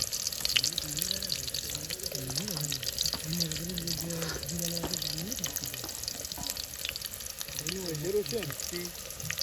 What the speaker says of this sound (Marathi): सर्वात आपला कांदा टाकायचा आहे मंडळी. बघा कसा तेलाचा आवाज येतो काय तुम्हाला.